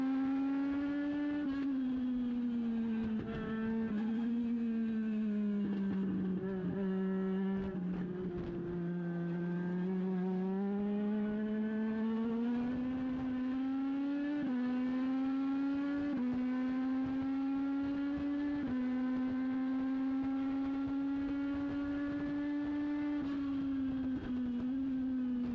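Legends race cars lapping in a tight pack at New Hampshire Motor Speedway, a steady, loud engine drone that rises and falls in pitch throughout, close and continuous with no talk.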